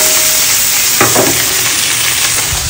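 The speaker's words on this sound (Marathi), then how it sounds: "पनीर आपल्याला एवढंच फ्राय करायचं आहे, जास्त वेळ फ्राय करायचं नाही." Paneer sizzles steadily in a hot pan, a dense, close, continuous crackle with a few brief stirring scrapes partway through.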